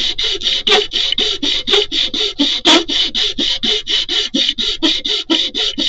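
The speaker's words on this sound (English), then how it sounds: "I'm using a fairly moderate grit sandpaper here because I don't want to have to sand forever to take care of this." Moderate-grit sandpaper rubs a 3D-printed resin toy in steady, rapid back-and-forth strokes, a loud close rasping that repeats about four times a second with no talking.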